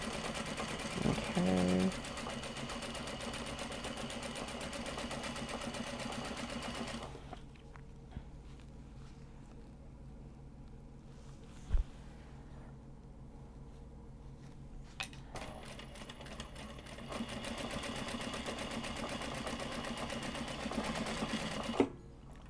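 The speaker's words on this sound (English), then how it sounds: "Gonna start winding the next bobbin, because why not?" A sewing machine winding a bobbin whirs in a steady mechanical drone, stops for several seconds of near quiet with a single click, then starts up again; a brief spoken word comes near the start.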